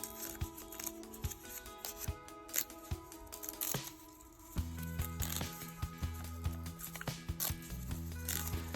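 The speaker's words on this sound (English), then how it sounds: "Now I'm going to rip off the paper." Paper being torn away from stitched quilt fabric for a reverse appliqué square, a close run of scratchy rips and tugs against steady low hum, with no voice.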